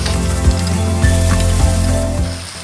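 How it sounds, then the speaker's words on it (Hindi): Spring onions sauté loudly in a pan for Kung Pao chicken, a dense, steady sizzle punctuated by regular clanks of a spatula against the pan about every half second. "सौते कर लेंगे"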